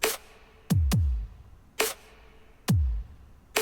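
An Apple Loops future bass loop in GarageBand Mobile: sparse, loud electronic hits with booming low drops, spaced irregularly and separated by short near-silent gaps.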